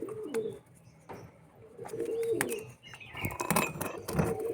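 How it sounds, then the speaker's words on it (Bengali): Pigeons in a loft coo in low, repeated bursts amid flurries of wing flapping and a few higher chirps, fairly close but moderately quiet. "এ দেখুন পায়রাটা"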